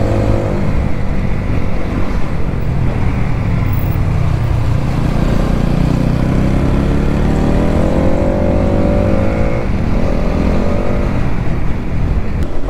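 A Pulsar NS200 BS7 or Apache RTR 200 4V BS6 motorcycle rides along an uphill road on a mileage test, its engine droning loud and steady with a shifting pitch and wind rushing past close to the rider.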